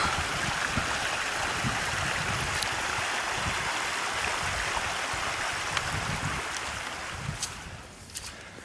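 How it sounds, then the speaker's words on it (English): Gentle, flat river water flowing steadily in the Cairngorms, a soft continuous wash of moving water heard close and alone, easing slightly toward the end. "it's gone very quiet because we've got gentle water now, a lot flatter"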